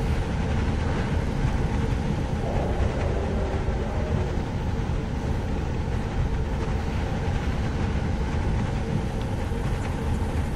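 Monorail train running in the Jurassic World Evolution 2 park-building game, a steady rumbling rail roll with continuous low mechanical drone throughout, no talk.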